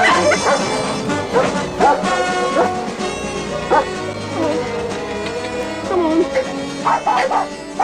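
Small dogs yip, whimper and bark in short bursts while being moved from a dog shelter to temporary kennels, mixed with nearby talk and general bustle.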